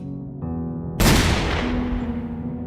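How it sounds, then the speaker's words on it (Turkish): A sudden loud gunshot cracks in the corridors of a large bunker over sustained background music, its echo trailing away slowly in a long reverberant decay. "o büyük sığınağın koridorlarında iki el silah sesi yankılanır"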